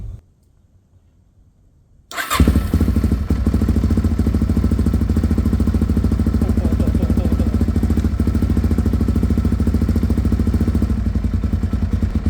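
A rebuilt Suzuki DRZ motorcycle engine fires up after about two seconds of quiet, catching at once and settling into a steady, loud, close idle with a fast even thumping pulse and mechanical clatter, no talk over it.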